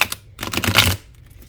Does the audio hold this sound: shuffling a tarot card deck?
yes